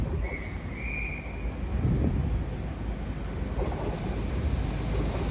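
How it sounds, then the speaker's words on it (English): An Intercity Express Train pulls into Exeter St Davids station with a steady low rumble and rolling rail noise, plus a faint high whine, heard outdoors with some wind on the microphone. "Here we got another IET coming in."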